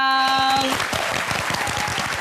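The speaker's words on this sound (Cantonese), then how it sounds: "掌聲歡迎" A studio audience applauds, steady clapping from many hands that fades in just as a held musical note ends.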